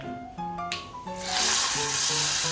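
A hot tempering is poured into pumpkin moru curry and sets off a loud, steady sizzle that swells after about a second and keeps hissing, with faint musical tones underneath.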